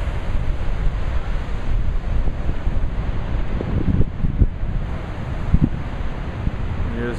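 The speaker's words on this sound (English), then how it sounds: "And here's the beautiful ocean." Rough ocean waves at Seaside Heights on a windy day, a low continuous surf roar heavily mixed with gusty wind buffeting the microphone and a few thumping surges, no speech.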